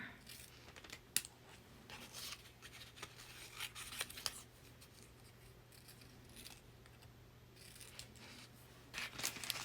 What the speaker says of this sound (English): Just going to cut little squares right now